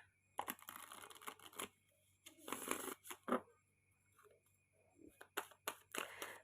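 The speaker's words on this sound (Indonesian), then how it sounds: "Kita akan shuffle kartunya." Tarot cards being shuffled by hand in bursts of riffling and soft slapping, close and fairly quiet, with short pauses between handfuls and no talking.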